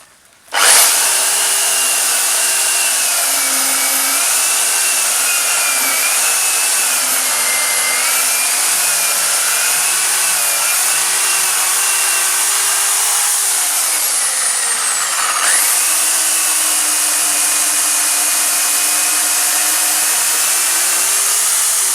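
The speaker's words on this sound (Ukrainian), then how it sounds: "зараз побачимо як ріже свіжо заточений ланцюг" A chainsaw with a freshly sharpened chain cuts through wood, its engine screaming loud and steady at high revs, with the pitch dipping briefly as the chain bites under load.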